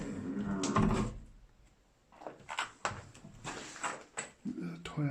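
A door creaks and clunks open in the abandoned nurses' quarters of an old hospital in Scotland, with a few knocks and scrapes following, mixed with someone speaking nearby.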